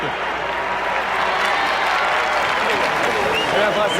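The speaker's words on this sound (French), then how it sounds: "Sous les applaudissements de la foule qui reconnaît l'effort du 77." Spectators applaud at a hockey arena, a dense sustained wash of clapping from a large crowd that swells slightly toward the end, with someone talking over it.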